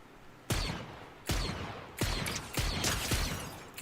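Rapid gunfire bursts in Fortnite, a solo run, with repeated loud shots in clusters at a steady, clattering rhythm, close and punchy with no talking over them.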